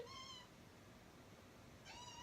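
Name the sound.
cat meowing to be let in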